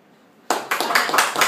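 A small group breaks into applause during a short talk in an office setting, a sudden burst of clapping that begins abruptly and stays dense and close for about a second.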